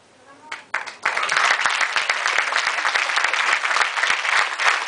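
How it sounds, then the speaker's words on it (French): An audience of about 400 people at a film premiere bursts into sustained applause after a brief quiet lead-in, dense clapping staying loud and steady to the end. "quand vous avez 400 personnes qui vous applaudissent"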